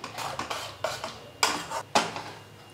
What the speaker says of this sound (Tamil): சேர்த்துட்டு கலந்து விட்டுருங்க.